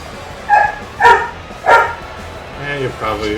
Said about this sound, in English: Marco's barking.